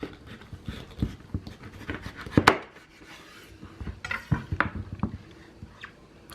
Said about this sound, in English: Now we're going to just take this and cut it straight in half down the middle.